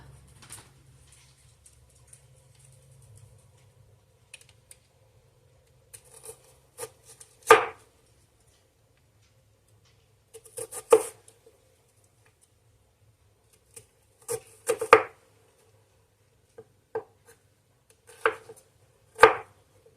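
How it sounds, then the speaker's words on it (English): A knife thinly slices an onion, landing as sparse, crisp cuts in small clusters separated by quiet pauses, close and isolated, with no speech. "I'm just going to slice up this onion fairly thin."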